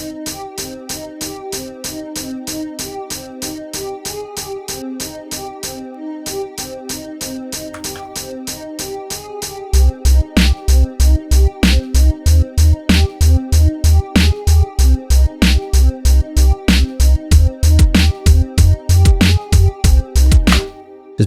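A hip-hop drum beat plays with steady hi-hats and a snare, the kick left out at first, then deep low thumps join partway through, driving a tight, loud, repeating rhythm to the end.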